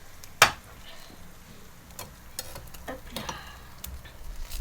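Food fries in rapeseed oil in a pan, giving a quiet, low sizzle broken by sharp clicks and light scrapes of utensils against the pan.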